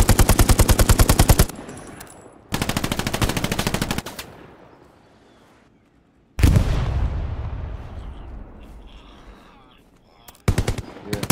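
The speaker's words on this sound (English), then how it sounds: "church is getting hit with artillery" Heavy machine-gun bursts and booming artillery impacts hitting a church in the World War II game Hell Let Loose, loud rapid volleys alternating with a big explosion that rumbles and decays, then more fire.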